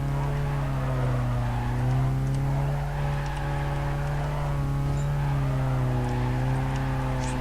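A race car engine in Need for Speed Carbon drones steadily and loudly, its pitch swaying slightly as it holds speed, with no speech over it.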